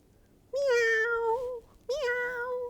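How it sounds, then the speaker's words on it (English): A cat meows twice, two clear, drawn-out calls with a short pause between them, close and loud against a quiet background. "What does a kitty say?"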